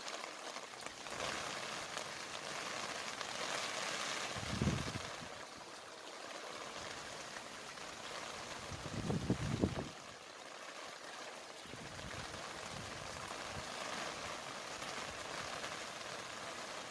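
Steady rain patters on a leaky umbrella being blown around in the wind at Halloween, a continuous hiss with a couple of brief low thumps of wind buffeting.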